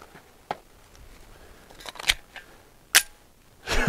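Girsan Witness 2311 pistol firing light 90 grain lead-free 1776 loads, a few sharp separate reports spaced apart with quiet gaps between, closing on a louder burst at the end.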